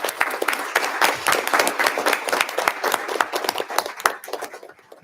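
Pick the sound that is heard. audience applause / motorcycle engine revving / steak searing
audience applause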